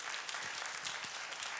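Church congregation clapping hands together, a steady dense wash of applause from many people filling the room, fairly faint and distant, with no speech.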